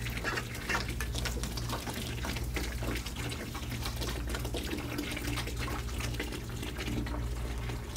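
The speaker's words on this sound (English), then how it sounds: "I'm going to add water. And like I said, boiling water." Boiling water poured from a pot straight off the stove into a mushroom grow bag, a loud, continuous close gushing splash lasting the whole stretch, with no talking.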